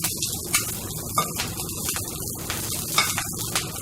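Stir fry sizzling hard in a very hot frying pan, a close, steady crackling hiss with small pops and spits throughout, no voices.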